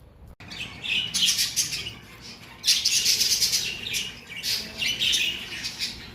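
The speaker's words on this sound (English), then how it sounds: "There's some budgerigars there." Budgerigars chatter and squawk in a museum aviary, several bursts of bright, busy chirping with short pauses between, fairly close and with no talk.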